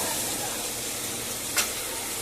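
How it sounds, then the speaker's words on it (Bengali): Vegetables, including chilli, potato, onion and coconut, frying in a pan with a dense steady sizzle and one brief sharper hiss near the end. "এবার একটু ভাজা ভাজা হোক।"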